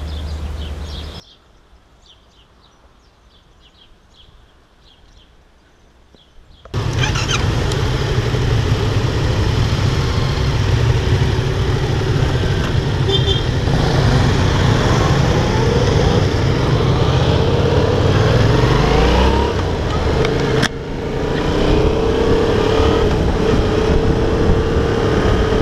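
A 2018 Yamaha MT-07 motorcycle engine while riding on Spanish roads, a steady loud drone with wind rush after a quieter idle-like opening, no voices.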